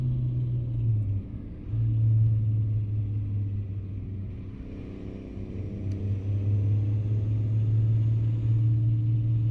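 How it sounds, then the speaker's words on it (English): Deep, steady truck engine drone in American Truck Simulator, loud and close, with a continuous low tone that dips briefly near the start and again mid-way as the engine brake engages and the revs shift. "Yeah, that is a nice Jake brake."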